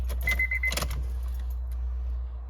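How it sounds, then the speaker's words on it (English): Car keys for a JDM Honda Stream jangle in a brief, close metallic burst lasting under a second, followed by a steady low hum and quiet. "Let's get the keys."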